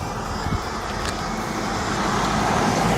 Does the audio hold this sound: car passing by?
yes